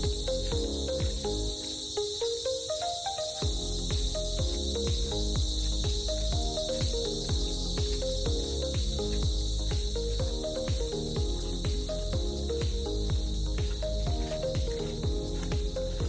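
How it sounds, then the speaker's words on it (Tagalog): Steady, dense cricket chirping in Batangas, Philippines, fills the whole stretch, loud and continuous, with a faint rhythmic pulse throughout and no talking. "Aga pa ng kuliglig dito."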